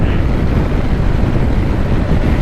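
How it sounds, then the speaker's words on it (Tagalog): Honda ADV 350 scooter on a long ride over a rough road, a loud steady engine and wind rumble heard close and continuous with no speech. "Ang sarap ng motor."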